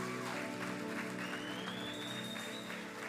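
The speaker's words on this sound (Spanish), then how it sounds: "A todos los que Cristo le ha cambiado la vida, me da un aplauso ahora mismo al Cristo." Church congregation clapping during a sermon, moderately loud but layered under sustained music with a rising tone, the claps forming a busy, uneven patter.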